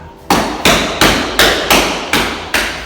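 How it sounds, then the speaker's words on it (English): Seven evenly spaced, sharp taps pressing an underfloor heating insulation board down into wet adhesive on a floor, each a loud close thump with a short decay, with no talk. "Tap it down so it makes full contact."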